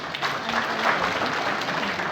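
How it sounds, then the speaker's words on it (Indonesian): Applause fills a council chamber during a formal DPRD Cilacap swearing-in session, a steady wash of many hands clapping at moderate loudness, with a faint voice underneath. "Tepuk tangan."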